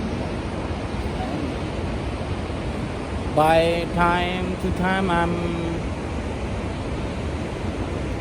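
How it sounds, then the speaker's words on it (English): Waterfall in the Cambodian jungle, a steady broad rushing roar that fills the whole clip, while someone speaks briefly over it partway through. "I want to show you about the waterfall. All of you hear the sound."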